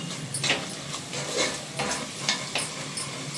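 A spoon stirs spice masala and onions in a hot pan for Ambur chicken biryani, giving repeated scraping strokes over a steady sizzle of frying. The strokes are close and fairly loud, with no voices.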